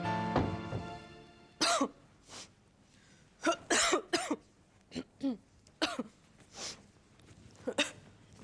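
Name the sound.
coughing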